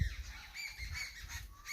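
Several birds call outside a guesthouse door in the morning, a busy overlapping chorus of squawking, honking cries heard at moderate distance with no talk.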